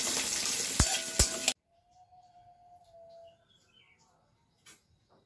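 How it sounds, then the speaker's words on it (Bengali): Mung dal frying in a pan sizzles loudly for about a second and a half, with two sharp clinks, before cutting off to near silence broken by a faint tone and a soft tap. "এই যে এখন ভাজা হচ্ছে এই মুগের ডাল, এটা মাছের মাথা দিয়ে হবে।"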